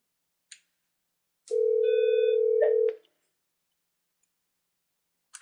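A Cisco SPA desk phone connects to a voicemail system: a faint click, then a single steady electronic tone lasting about a second and a half. Sparse clicks follow in otherwise silent surroundings.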